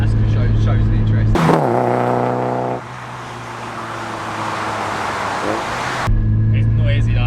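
Heavily modified widebody Mazda MX5 engine running loudly, a harsh droning exhaust with rising revs that settles into a sustained roar before cutting back to idle.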